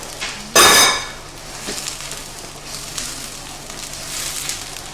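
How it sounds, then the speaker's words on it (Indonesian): A brief metallic clank of a pan, then a low, steady sizzle as onions are sautéed for a honey grilled rib dish, with faint scraping, close and without talk. "Kita tumis sampai harum."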